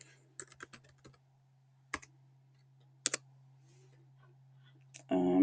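Sparse keystrokes on a computer keyboard, a few isolated clicks and short bursts in a quiet room over a low steady hum, ending in a brief louder rustle.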